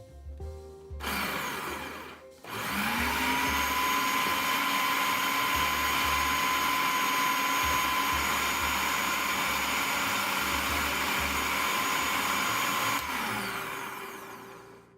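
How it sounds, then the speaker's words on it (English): A food processor blends a carnivore diet mixture, its motor roaring loud and steady for most of the stretch after a brief start and stop, then winding down near the end. "Blend this in a food processor or blender until you have a smooth texture."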